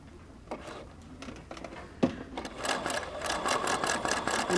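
A sewing machine stitching silk ribbon embroidery on a hooped fabric, a few isolated needle taps before it settles into a fast, steady mechanical whir of stitches, close and clear without talk.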